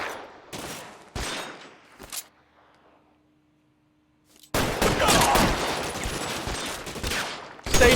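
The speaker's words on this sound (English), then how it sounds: "Suppressing fire!" Gunfire in the video game L.A. Noire: a few sharp shots, a quiet lull, then a sustained dense fusillade of rapid overlapping shots, loud and close.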